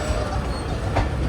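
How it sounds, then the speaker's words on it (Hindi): A passenger train on the Allama Iqbal Express route rumbles into the platform at Mian Channu station, a loud continuous low roar with faint wheel clatter, brief and without talk. "4:50 पर अप्रोच बना रही है ट्रेन मियाँ चुन्नू पर।"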